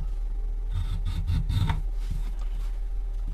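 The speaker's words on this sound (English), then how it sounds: "to do the rest of the chamfer, I got my float again, Iwasaki flat" Iwasaki float rasping the chamfer on a traditional wooden hand plane: a short run of close, gritty scraping strokes, several back-and-forth passes of uneven rhythm that fade into lighter rubbing.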